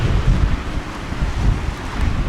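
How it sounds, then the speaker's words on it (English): Strong wind buffets the microphone on the seafront at Tenby, a loud, continuous low roar with gusty surges and no let-up throughout. "shaking in the wind."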